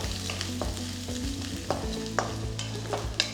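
Sliced carrot and beans are stir-fried in a pan, a constant sizzle under frequent scraping and tapping of a spatula, close and fairly loud, with sharper knocks every second or so.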